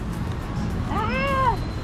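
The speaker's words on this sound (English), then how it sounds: "Look, another cat." A single cat meows once on a city street in Manila, a drawn-out mid-pitched cry rising over steady traffic and street hum.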